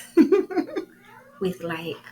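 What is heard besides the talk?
cat meowing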